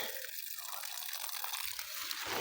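Irrigation water from a mud pump flows steadily onto a mulched lychee seedling in an orchard, a close, continuous rushing and trickling wash with no breaks.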